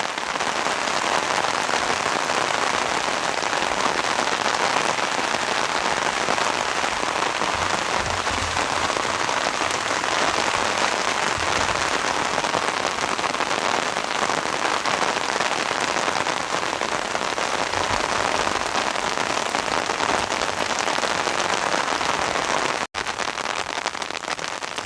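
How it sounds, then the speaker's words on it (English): Steady rain drizzling down during a storm, falling onto surfaces in a dense, continuous hiss that stays even throughout, with no talking. "Drizzling down a little bit more than the second storm."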